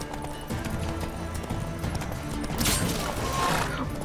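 Horse hooves clip-clop in The Witcher 3 during a mounted fight, a quick continuous patter under game noise, with a brief burst of crashing clatter near the end.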